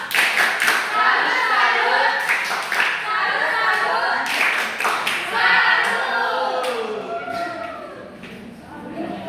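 Children perform a chanted clapping routine called tepuk salut in a classroom, rhythmic hand claps in quick bursts mixed with young voices chanting along throughout.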